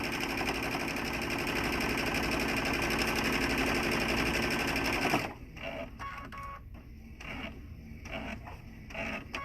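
A sewing machine stitches fabric for a wine tote, a fast steady mechanical rattle for about five seconds that stops abruptly, followed by quieter scattered clicks and handling noises.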